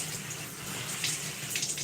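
Steady running water rinsing and saturating hair during a wash, a continuous close splashing flow with small surges, no voices.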